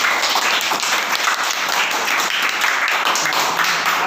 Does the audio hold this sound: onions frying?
no